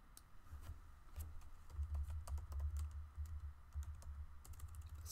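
Quick, light keystrokes on a computer keyboard while a folder name is entered, a brisk irregular patter of close, quiet taps with brief pauses between short runs.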